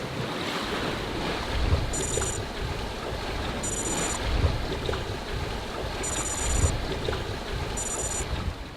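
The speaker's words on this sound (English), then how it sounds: "This morning we've had wind all morning" Wind and ocean waves roll around a sailboat far out on the Indian Ocean, a steady rushing wash with gusty wind noise on the microphone and no break.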